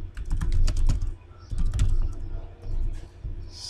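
Rapid clattering keystrokes on a computer keyboard come in bursts separated by short pauses, close and fairly loud, with a steady low hum running underneath.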